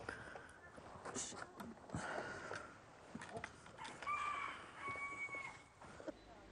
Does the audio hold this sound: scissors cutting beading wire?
no